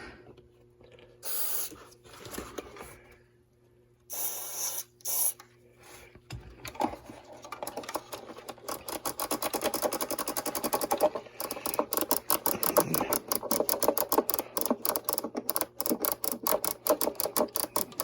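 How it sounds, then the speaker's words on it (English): A few short hissing bursts of cleaner sprayed up close on radio switches, then a long stretch of rapid clicking and ratcheting as the switches are worked back and forth. "So we'll spray these switches and work them a little bit."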